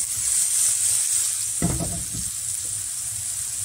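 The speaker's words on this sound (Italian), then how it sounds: "l'aglio come vedete è dorato, quindi lo vado a togliere e vado a mettere i nostri funghi" Porcini mushrooms sizzle steadily in a frying pan over low heat after golden garlic has been removed, with a brief louder burst of hissing and stirring midway.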